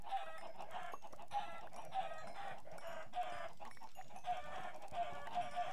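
Chickens in the Minecraft video game cluck repeatedly in short, evenly spaced bursts, with crowing-like calls sounding quiet and clean with no talk over them.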